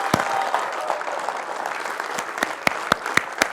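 An audience at an Atomy India felicitation event keeps up continuous applause in a hall. Several sharp, loud claps near the microphone fall at a steady beat toward the end.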